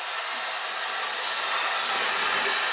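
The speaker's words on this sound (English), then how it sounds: "we'll use a hair dryer to blow it up in the end" Hair dryer blowing hot air steadily into a plastic indoor hot air balloon, a close, even broadband whoosh with no break and no one talking.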